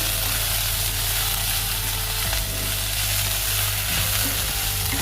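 Boiled banana stem pieces with salt and turmeric fry in hot oil in a pan, giving a loud continuous sizzle with occasional stirring scrapes and a low steady hum of the gas burner beneath.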